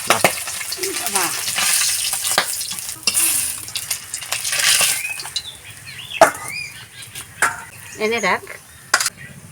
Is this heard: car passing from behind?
no